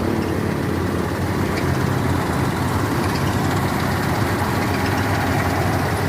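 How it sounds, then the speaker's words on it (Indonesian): A bus engine idles steadily, a constant low rumble that stays loud and unchanging throughout with no talking over it. "Mesin halus ya teman-teman ya."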